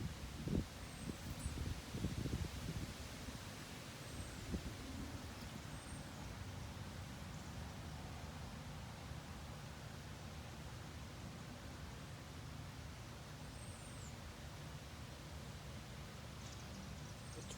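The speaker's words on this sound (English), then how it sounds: "20-mile-an-hour wind gusts" Gusting 20 mph wind outdoors, a steady broadband rush with low rumble and faint rustling, a little rougher at first and then constant and soft throughout, with no one talking.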